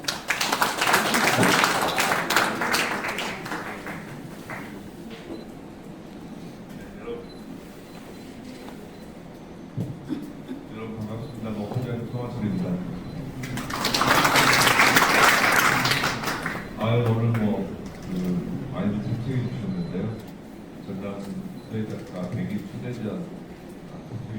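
Audience applause at a ceremony for the Jeonnam 100 Calligraphers invitational exhibition at the Yeosu Expo gallery. A full, steady clapping swell rises for a couple of seconds, with quieter stretches of room sound and talk around it.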